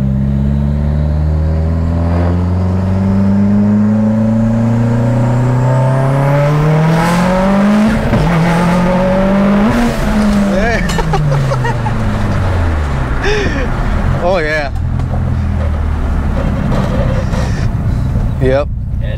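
A built Mitsubishi Evo X with stock sleeves, Callies Ultra I-beam rods, Wiseco pistons, GSC S2 cams and ID1300 injectors pulls hard through first, second and third gear on a tuning run, loud rising engine notes broken by shifts, close inside.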